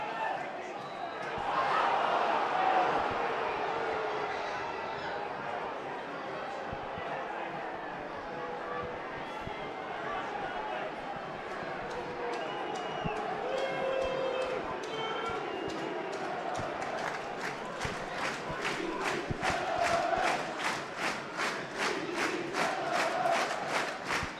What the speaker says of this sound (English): The crowd are trying to urge Wrexham home.